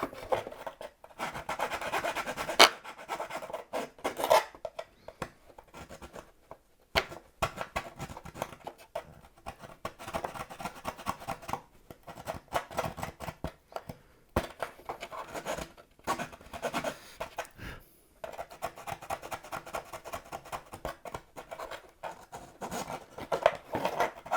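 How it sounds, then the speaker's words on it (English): A small needle file rasps back and forth on a part while an aileron servo is fitted into an Explorer model glider wing, quiet close scraping strokes in an uneven stream with no talk. "A bit of filing."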